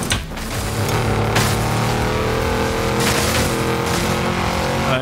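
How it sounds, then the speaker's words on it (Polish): A Mercedes in Forza Horizon 5 tears across off-road terrain, its engine roaring loud and steady with throttle swells and gear changes. Brief crunches of impact and scrabbling tires cut in now and then. "Tym Mercedesem też przez offroady ładnie."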